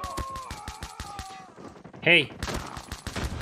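MW11 pistol fire in Call of Duty Mobile during the Knights Divided event: a quick run of sharp shots, followed by a short shout and further game sounds.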